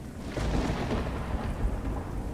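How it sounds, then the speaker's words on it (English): A wind and rain storm roars steadily throughout, a dense, close wash of rushing noise with a deep rumbling low end and no distinct breaks. "despite the sounds of the wind and rain, you sit here with me"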